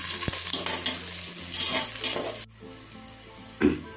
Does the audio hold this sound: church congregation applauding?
no